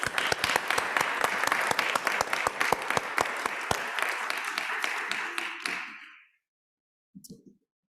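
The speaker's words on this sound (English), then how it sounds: "Graduates, I invite you to give a round of applause for all those in the room and online who" Graduation ceremony audience claps in a strong burst, with sharp individual claps standing out over the crowd, before the applause stops abruptly, leaving silence and a brief faint thump near the end.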